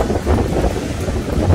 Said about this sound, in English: that wind's probably really bad